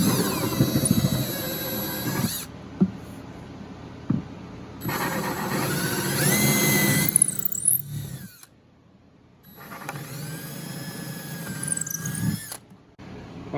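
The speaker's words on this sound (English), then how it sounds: "let's hold that drill bit straight up and down and punch all the way through" A power drill whines in three bursts, boring through a wooden acoustic guitar bridge with a high squealing edge, separated by short quiet gaps.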